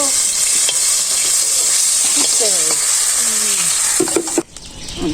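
Bata fish sizzles loudly in hot oil, a steady bright crackling hiss that runs throughout, with stirring scrapes and a few faint voice traces underneath before the sizzle briefly drops near the end.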